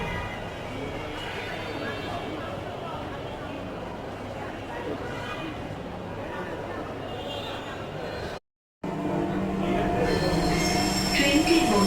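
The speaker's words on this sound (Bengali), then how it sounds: "উত্তর থেকে মেট্রো রেলে উঠে চলে আসলাম ঢাকা" Inside a Dhaka metro rail train running from Uttara, with a steady roar of rolling wheels and high-pitched wheel squeal throughout, a brief dropout near the end, then louder squealing as the train brakes or accelerates; voices talk at times.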